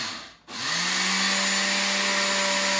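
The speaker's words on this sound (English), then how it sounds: "You've got to start with a cup of oats and put it in the blender." Oats grinding in a blender run at its most powerful setting, starting after a brief silent gap and settling into a loud, steady motor whine with a constant pitch that carries through to the end.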